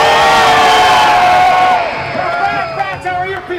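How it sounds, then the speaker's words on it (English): A theme park stunt show crowd at Universal Studios Hollywood's Waterworld roars and cheers loudly together on cue, a dense wall of shouting and whooping that fades slightly toward the end. "Everybody in front of me, on the count of three, make as much noise as possible."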